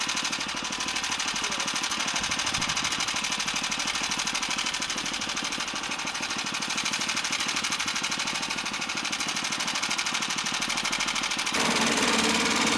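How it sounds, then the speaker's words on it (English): A lawn mower engine runs steadily while cutting grass, a continuous loud, buzzing drone with a fine rapid pulse that holds the whole time and briefly shifts in tone near the end. "She's having to mow grass to earn her keep."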